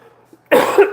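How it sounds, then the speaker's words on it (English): One sharp, loud cough bursts out after a brief quiet moment, close to the listener. "I told you I would start coughing."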